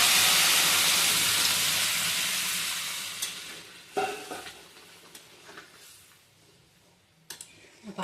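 Boiled moong dal poured onto fried fish head in a hot pan, a loud hiss that fades as it settles, then scattered scraping stirs and clicks of the spoon.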